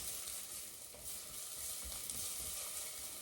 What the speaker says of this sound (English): Oh, you can hear that sizzling away.